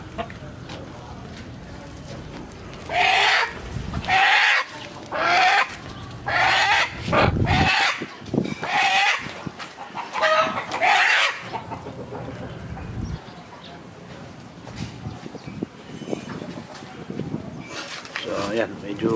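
Native chickens cluck in a coop, with repeated clucks and squawks close by while people talk over them.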